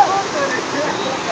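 Fast-flowing, very cold mountain river in the Naran Kaghan valley, a steady close rushing and splashing of water, loud and unbroken across the brief moment.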